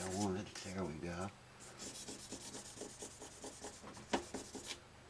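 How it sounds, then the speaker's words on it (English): Fret marks are polished out on a Martin D42 acoustic guitar with short, quiet rubbing strokes in an uneven rhythm, heard close up after a brief stretch of tonal noise at the start. "And now, just polishing out the fret marks."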